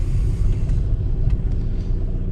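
A car pulls away after its steering wheel has been refitted, with a steady low engine rumble holding evenly throughout at close range.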